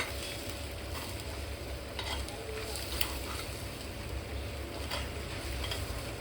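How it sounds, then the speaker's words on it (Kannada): Egg and potato fry being stirred in a pan over a low flame, a constant even sizzle with faint periodic scraping of the spatula, no voices. "ಲೋ ಫ್ಲೇಮಲ್ಲಿ ಈ ಥರ ಮಿಕ್ಸ್ ಮಾಡ್ಕೋಬೇಕು."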